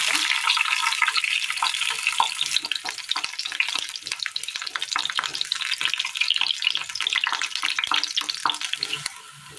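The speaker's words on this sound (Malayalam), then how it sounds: "വെളുത്തുള്ളി ഇട്ട് കൊടുക്കാം" Garlic fries in hot oil with spluttered mustard seeds for a curry, a loud, close, steady sizzle with bubbling crackle that runs unbroken until it fades slightly at the very end.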